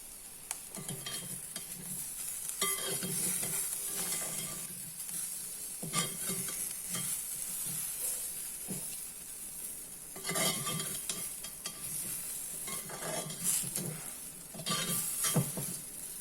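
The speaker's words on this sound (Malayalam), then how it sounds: "ഇങ്ങനെ 2-3 പ്രാവശ്യം ഇളക്കി കൊടുക്കണം." Jackfruit seeds fry in a pan under steady sizzling while a spoon stirs them in bursts, scraping and clinking against the metal close by.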